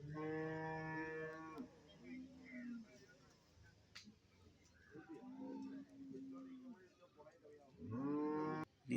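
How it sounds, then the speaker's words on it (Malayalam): Buffalo calves low and bellow at a busy cattle market, one long call at the start, short grunting moos mid-way and another loud bellow near the end, over steady crowd murmur and talk. "കുറേ പോത്തുകളൊക്കെ ഇതായി ഭാഗത്ത് നിൽപ്പുണ്ട്"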